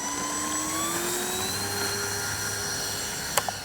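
A Dynam P-61 Black Widow RC plane on its maiden flight holds a steady electric whine whose pitch slowly sweeps upward as it passes, fairly loud overhead, with a couple of sharp clicks near the end.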